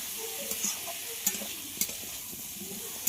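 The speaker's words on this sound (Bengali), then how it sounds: "ওই তেলের মধ্যে জল ঝরিয়ে রাখা এঁচোড়গুলো দিয়ে দেব। এঁচোড়গুলোও কিন্তু খুব ভালোভাবে ভেজে নেব।" Drained jackfruit pieces fry in hot oil in a pan, giving a steady low sizzle with a few sharp clinks of a spatula stirring against the metal.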